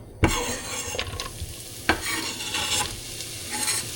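Onions and garlic frying in a pan, a soft sizzle broken by a few sharp clacks of a utensil stirring against the pan, close and fairly quiet.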